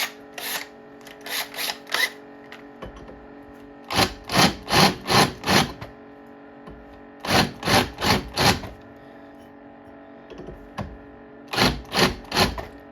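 Bursts of rapid mechanical chattering from a drill boring through metal come in short groups of four or five, separated by pauses, loud and close against a steady background hum.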